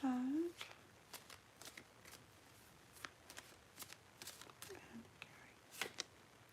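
A tarot card deck is shuffled with a series of light, crisp card flicks and riffles spread across several seconds, faint and close, after a brief voice at the start.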